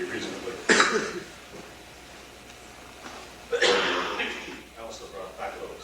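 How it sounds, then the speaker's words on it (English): Two separate coughs, a few seconds apart, moderately close in an otherwise quiet room. "I also brought back a little cough from Japan,"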